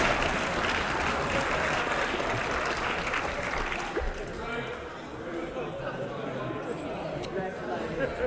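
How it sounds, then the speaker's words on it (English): Broad applause fills a parliament chamber during question time, a dense wash of clapping mixed with murmuring voices that softens slightly midway and continues to the end. "Applause of relief."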